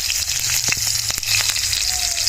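Green chillies frying in hot oil with cardamom and cinnamon, a continuous bright crackling sizzle with a few sharp pops and spits, close and steady throughout.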